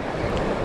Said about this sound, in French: faut que je fasse gaffe aux vagues